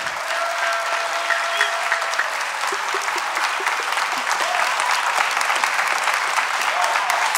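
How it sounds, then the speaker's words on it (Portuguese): A concert audience at an instrumental music show claps steadily, a dense, sustained wash of applause that holds at an even level throughout, with a faint tonal line in the first seconds. "uma salva de palmas"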